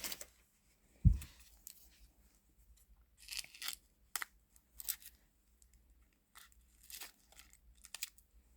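Scissors snip several times in a quiet room, with short crisp cuts and soft handling noises between them.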